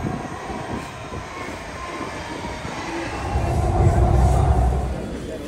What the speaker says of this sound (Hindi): let's wait for the metro